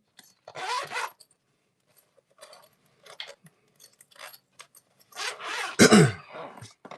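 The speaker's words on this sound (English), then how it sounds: "So sorry about clearing my throat for some reason this morning." A few throat-clearing rasps and short coughs, close to the microphone, with quiet pauses between them and a louder final burst.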